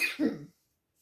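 A single soft, close cough, a short rough burst that quickly fades into silence.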